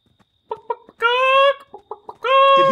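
Chicken clucks in the Friday the 13th video game: short choppy clucks alternate with two longer, drawn-out squawking calls, close and clear against an otherwise quiet background.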